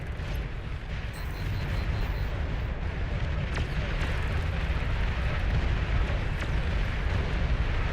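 Commander unit exploding in the strategy game Beyond All Reason, a sustained loud rumbling blast with crackling debris, noisy and dense throughout.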